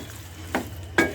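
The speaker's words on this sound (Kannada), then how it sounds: "ಇದನ್ನು ಒಂದು 10 ಮಿನಿಟ್ಸ್ ಫ್ರೈ ಮಾಡಿ ಎಣ್ಣೆಯಲ್ಲಿ" Raw green peas frying in oil in a pan for a baby corn gravy, a low steady sizzle broken by two scraping stirs, the second louder. No talking.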